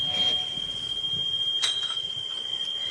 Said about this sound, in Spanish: el sonido es de una alta frecuencia, es un chirrido casi eléctrico